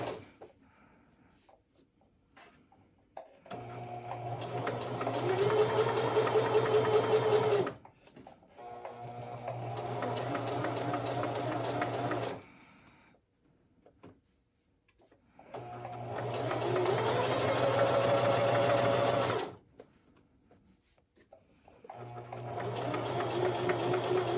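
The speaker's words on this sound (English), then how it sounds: "you can just go ahead and sew that 4 length stitch" A sewing machine stitches a long basting seam at stitch length 4 and zero width, running in three steady bursts of a few seconds each, with short pauses between runs.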